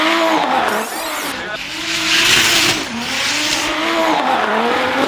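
Drift cars racing at the Drift Masters event in Riga, engines roaring and revving with tires squealing as they slide past, heard loud from a high vantage point, with talk underneath.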